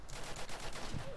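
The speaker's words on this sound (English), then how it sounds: "A player just came down from the tower. They're shooting me." Gunfire in the Roblox game Apocalypse Rising, a short flurry of muffled rapid shots over a dense game soundscape, fairly quiet in the mix.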